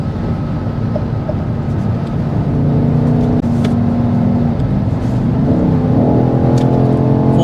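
A BMW XM Label pulls hard at full throttle on the Autobahn, a loud continuous engine roar rising steadily in pitch with a brief gear-change dip, heard from inside the cabin.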